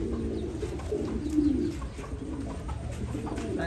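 Pigeons coo softly in a breeding loft, several low rounded calls rising and falling over a steady background hum, with no voices.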